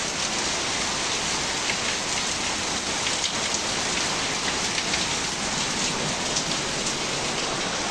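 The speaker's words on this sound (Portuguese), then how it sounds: "Chuva maravilhosa," Steady rain falls outdoors in a continuous, even hiss of drops on surfaces, fairly loud and unbroken, with no voices.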